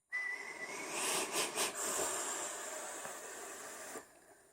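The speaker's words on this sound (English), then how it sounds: "hey, there's RDA whistles" An RDA atomizer on an eLeaf iStick 100W vape mod, running at 1.2 ohms, gives a steady close airy hiss with a thin high whistle that wavers briefly, lasting about four seconds before stopping abruptly.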